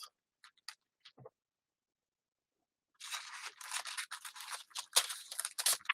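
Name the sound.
cutting off part with scissors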